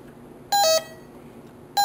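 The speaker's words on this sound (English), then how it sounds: "the alarm is asking for a code entry, as this room is currently alarmed" An alarm keypad beeps as it prompts for a code entry, giving a loud, clean two-tone electronic beep, then a pause, then another beep starting the same pattern.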